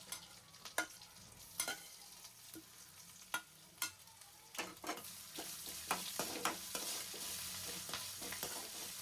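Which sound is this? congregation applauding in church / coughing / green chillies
green chillies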